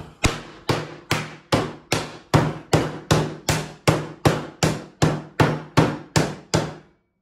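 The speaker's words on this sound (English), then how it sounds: "Just get a plastic bag and a hammer, it will do the same job. So we're just going to crush this up." A hammer pounds ice inside a plastic bag, about fifteen hard, evenly spaced blows in a steady rhythm, each a sharp crack with a brief crunchy decay, loud and close with no talking.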